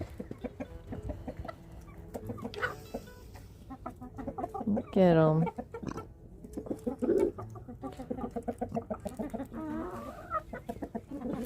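Chickens on a homestead, among them a small and a large rooster, cluck and squawk close by, with one loud harsh call in the middle, while a person speaks briefly over them.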